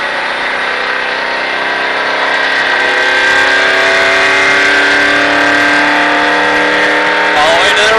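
Stock car engine accelerating hard on an oval track during a Richard Petty Driving Experience ride, a loud steady roar with rising harmonics filling the whole clip, with a voice talking over it.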